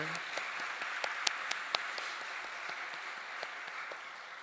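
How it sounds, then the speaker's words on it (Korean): A church congregation at a year-end Sunday worship service applauds in praise, a steady wash of many hands clapping at moderate level with a few sharper individual claps standing out, no talking over it. "우리 하나님께 이 시간 영광과 찬양의 박수를 좀 올려드렸으면 좋겠습니다"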